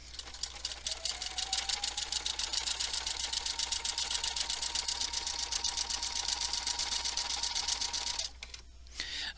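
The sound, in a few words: embroidery sewing machine stitching a shamrock design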